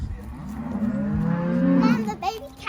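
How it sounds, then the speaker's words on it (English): Young calves mooing on a family farm during branding day, a few drawn-out, wavering bellows close by that rise and fall in pitch, with faint background voices. "the baby cows are really scared"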